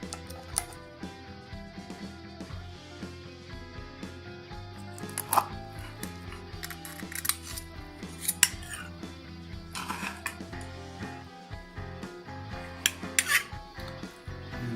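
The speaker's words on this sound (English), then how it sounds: "we're going to cut into it and give it a try" Metal utensils clink and scrape against a cast iron pan while cutting into a chicken pot pie with a flaky filo crust, scattered sharp taps and knocks over a quiet background, with no one speaking.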